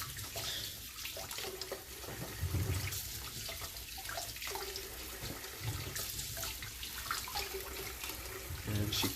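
Tap water runs steadily while food storage containers are washed in a kitchen sink during mushroom and ginger cooking prep, a continuous splashing flow with faint voices underneath.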